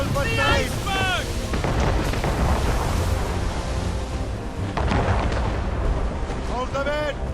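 Ship cannons fire in Assassin's Creed Rogue, with heavy booms over a constant roar of ocean and wind. Crew members shout in the background.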